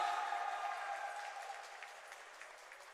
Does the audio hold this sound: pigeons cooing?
no